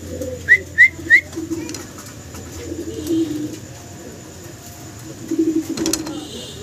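Hyderabadi racer pigeons coo nearby: three quick rising whistle-like notes, then soft, low, rolling coos that return in short bursts.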